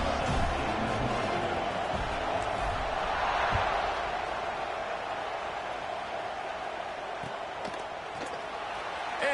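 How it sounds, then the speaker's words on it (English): Stadium crowd in a college football video game, Penn State versus Michigan, keeps up a broad, steady roar and murmur after a score, loud and continuous throughout. "this crowd is buzzing after that last score"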